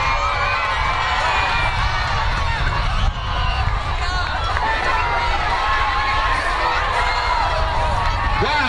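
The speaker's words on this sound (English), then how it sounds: "how loud can Center Street School cheer?" School children at a high school homecoming pep rally cheer and shout loudly, a sustained roaring crowd of high voices with whoops, filling a large hall without pause.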